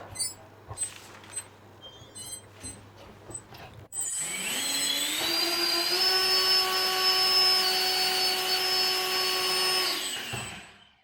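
A Dynam 70 mm electric ducted fan on a fully charged 3S battery spins up to full throttle with a loud, steady high-pitched whine and rising tonal hum, holding for several seconds before winding down; scattered handling noises come first.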